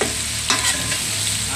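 Garlic, onion and ginger frying in oil in a large pot for lugaw, a steady loud sizzle with stirring scrapes, close and continuous.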